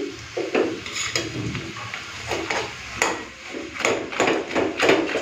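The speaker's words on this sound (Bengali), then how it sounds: "মাছের মাথাগুলো এখন ভেঙে দিচ্ছি।" Katla fish heads being broken apart with a spatula in a pan of cabbage, a series of sharp knocks and scrapes in an irregular rhythm, close and fairly loud, no talking.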